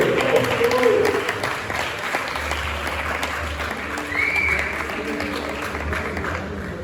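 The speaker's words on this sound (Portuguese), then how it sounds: "Só de palmas" Applause from the audience at the close of an automotive engineering talk show, moderate clapping that fades slightly with some background voices.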